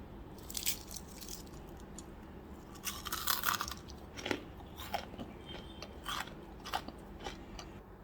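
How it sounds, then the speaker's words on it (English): Crunchy fried onion rings being bitten and chewed up close, with repeated crisp crunches at an uneven rhythm and no talking. "Now we can start munching on the crunchies."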